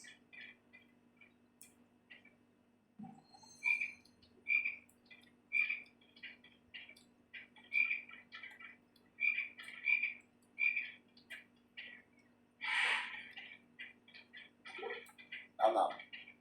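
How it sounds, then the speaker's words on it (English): A chocolate frog in a Harry Potter video game croaks in short, regular bursts about once a second, fairly loud and close, with some other game noises near the end. "You have to knock the frog out before you can catch it."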